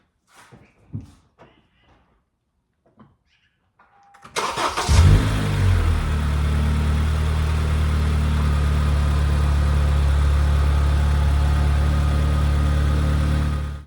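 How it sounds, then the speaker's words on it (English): A 2012-2015 Honda Civic Si during a home oil change: a few faint clicks and handling noises, then the engine cranks, catches and settles into a steady, loud, close idle that holds to the end. "I'll start the car, let it run for a little, shut it off, recheck the oil level."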